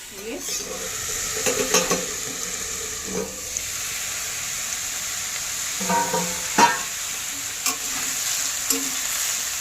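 Watermelon rind curry simmers in a pan while a spoon or spatula scrapes and knocks against the metal in several separate strokes over a soft, continuous sizzle.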